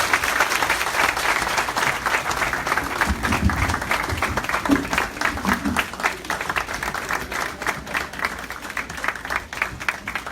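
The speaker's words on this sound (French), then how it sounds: "Je vous demande d'applaudir." A graduation ceremony audience gives sustained applause for an honoured speaker. The dense clapping is steady and fairly loud across the whole stretch, with a few faint voices underneath.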